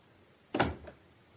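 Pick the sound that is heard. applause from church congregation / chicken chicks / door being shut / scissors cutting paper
door being shut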